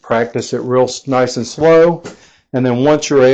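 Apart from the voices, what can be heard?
No distinct noise like a dog, phone or traffic.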